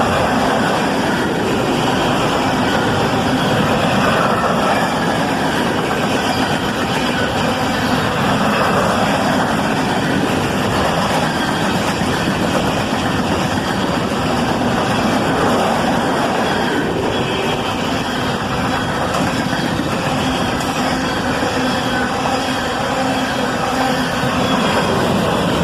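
A CSX coal train passes loud and close in a steady, continuous roar of rolling wagons and wheel noise that holds throughout, with no voices.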